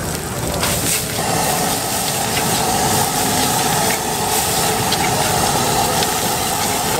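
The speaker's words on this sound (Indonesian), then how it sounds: "Ini bikin nasi goreng." Nasi goreng with garlic frying in a wok at a street food stall, a steady loud broadband sizzle and hiss running continuously for the whole stretch, with some background clatter and no speech.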